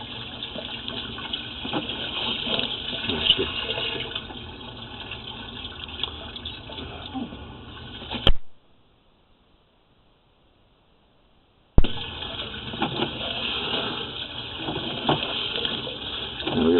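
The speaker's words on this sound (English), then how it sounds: "Now we get a little water running to see if we can get the lens cleaned off a little bit" Water runs into a residential main sewer line, a steady rushing gurgle inside the pipe that cuts out to complete silence for a few seconds midway and then resumes just as before, with no voices.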